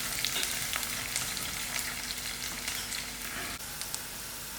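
Onions fry in a pan with a constant close hiss and crackle and faint occasional clinks, the sizzle holding steady throughout with no one talking.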